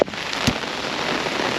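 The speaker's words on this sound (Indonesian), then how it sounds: "Tiba-tiba hujannya." Rain falls steadily in a dense, even patter with no break, heard outdoors on a trip in Japan. A single brief tap rises above the hiss.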